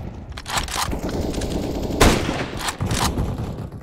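Bursts of automatic gunfire ring out in Counter-Strike: Global Offensive, loud sustained rattling with sharper shots near the midpoint, no voices.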